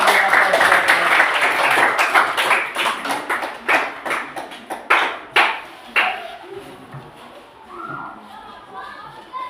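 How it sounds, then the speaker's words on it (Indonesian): Classroom applause breaks out after a group presentation, a burst of scattered hand claps that thins into sparse individual claps and fades, with some murmuring voices near the end. "Beri aplaus"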